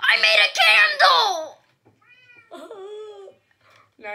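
Minecraft cats meowing loudly in a quick burst of several cries during the first second and a half, followed by quieter, higher game cat sounds later on.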